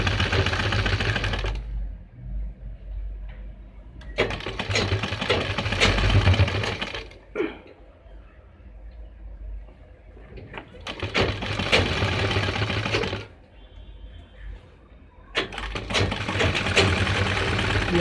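A sewing machine stitching a neck strip onto a suit runs in four fast, rattling bursts separated by short pauses, loud and close, with no speech over it.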